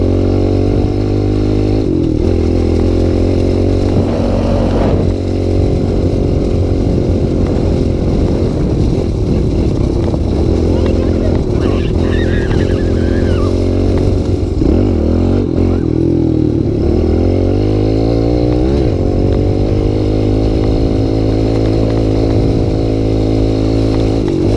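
A Yamaha YZ125 two-stroke dirt bike is ridden in fourth gear on ice, its engine buzzing loud and close throughout, with the pitch rising and falling as the throttle changes.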